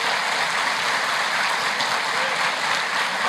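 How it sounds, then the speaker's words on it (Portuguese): A church congregation applauds at a Christian conference, a thick, sustained roar of many hands clapping at steady loudness without pause. "Vamos dar uma salva de palmas, glórias ao Senhor"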